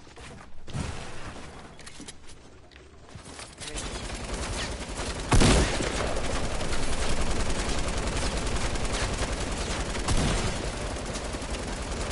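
Sustained video game gunfire, dense fusillade of rapid automatic shots running nearly throughout, with a couple of louder bursts standing out above the steady clatter.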